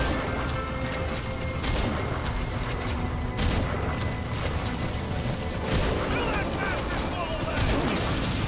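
Gunfire in the video game Metal Gear Solid V comes in repeated bursts and heavy impacts over a dense, busy game soundtrack, with a player talking throughout.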